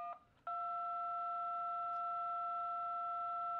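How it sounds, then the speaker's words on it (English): Keypad number one pressed on a phone, giving a DTMF dual tone: two steady pure pitches summed together, starting after a short click and holding for over three seconds, clear and alone. "Like if I hit the number one key, these are dual tones, so you'll see two distinct frequencies in the spectrum."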